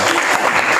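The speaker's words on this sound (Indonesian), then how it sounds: "terima kasih, tepuk tangan buat Noval" A dense wash of audience clapping for a speaker named Noval in a learning session fills the brief moment, steady and close with no gaps.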